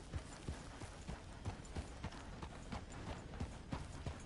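Horse hooves clip-clop steadily at a walking pace in Red Dead Redemption II, a faint, regular series of soft thuds with light mechanical rattle beneath.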